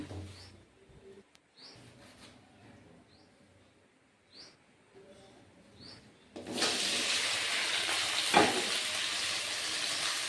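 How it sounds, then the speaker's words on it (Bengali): Okra is fried in oil in a wok. After a quiet stretch with faint bird chirps, a loud sizzle bursts in suddenly and holds steady to the end, close by. "এবার ভেন্ডিটা ভেজে নেব। কড়াইয়ে একটু তেল দিয়ে দিলাম।"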